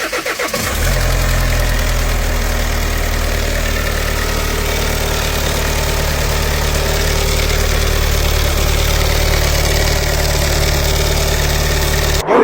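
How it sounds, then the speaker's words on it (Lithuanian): A Volvo V90 engine idles steadily just after a cold start, a loud, close, continuous low-pitched hum with a faint mechanical ticking on top, running alone for the whole stretch. "Šaltas variklis užsikūrė, jautėsi tikrai geras, didelis pašalinis garsas."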